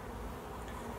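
Dense, steady buzzing of many honeybees swarming over an open hive, a continuous close-up drone filling the whole moment without any voices.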